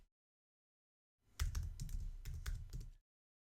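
Someone types a short burst on a computer keyboard, a quick cluster of close clicks and taps lasting under two seconds, with silence before and after.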